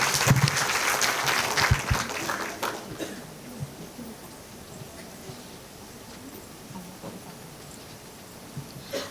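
Audience of teachers clapping after a drama performance at a school cultural event, applause strongest at the start then thinning out to scattered claps and faint room noise.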